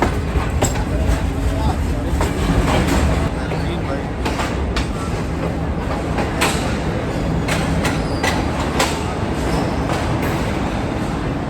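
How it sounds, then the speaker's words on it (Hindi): The Green Line Express pulls into Lahore Junction with rhythmic wheel clatter, rumbling and sharp metallic clanks, loud and close, while people talk nearby. "फाइनली 8:42 पर ट्रेन हमारी लाहौर जंक्शन पर लग रही है।"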